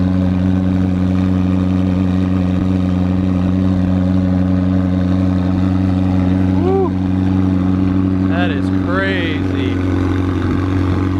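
A McLaren sports car idles at a car show, a deep, steady engine rumble loud throughout with low droning tones, while faint voices and a few brief chirpy sounds appear near the end.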